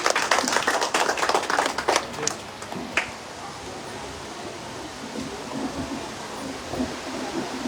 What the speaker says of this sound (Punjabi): ਤਾੜੀਆਂ ਦੇ ਨਾਲ ਸਵਾਗਤ ਕਰਦੇ ਹਾਂ